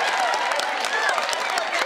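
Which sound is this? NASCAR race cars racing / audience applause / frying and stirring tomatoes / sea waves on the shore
audience applause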